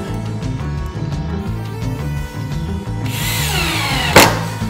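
Power drill drives screws through a metal faceplate into a wooden bowl blank for lathe turning, a loud close whirring motor with pitch changes and a sharp burst near the end.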